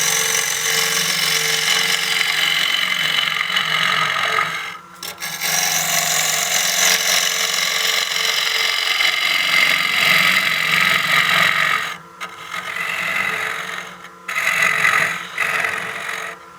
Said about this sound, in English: with these being a carbide cutter with the titanium nitride finish, we're cutting into mulberry here